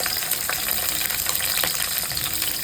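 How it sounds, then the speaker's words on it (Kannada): Cashews frying in oil in a pan until brown make a dense, crackling, bubbly sizzle that runs on without pause, close and fairly loud, with no talking. "ಅದು ಬ್ರೌನ್ ಕಲರ್ ಬರೋವರೆಗೂ ಫ್ರೈ ಮಾಡ್ಕೊಳ್ಳಿ"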